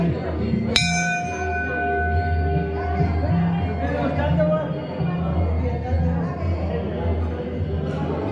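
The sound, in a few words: temple bell being rung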